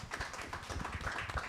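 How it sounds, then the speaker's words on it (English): An audience at a panel on professional basketball claps, a quiet, fairly even patter of hands heard at a distance. "Clap that up."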